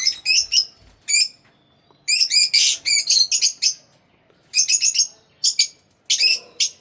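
Lovebirds in a large 8 by 6 foot cage give shrill, rapid chirps in clustered bursts separated by brief quiet gaps, loud and close.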